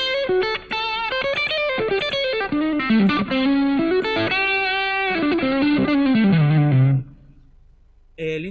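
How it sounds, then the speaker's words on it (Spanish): Electric guitar played through a Zoom G5n multi-effects pedal on a spring reverb patch, a continuous run of sustained notes and chords with a lush reverb tail, ending abruptly before a brief final strum. "dejo solo el spring reverb"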